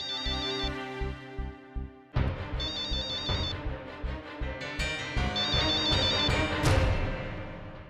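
A mobile phone ringtone plays as a bright repeating melodic tune with warbling high tones over a rhythmic beat, loud and continuous, with no talking over it.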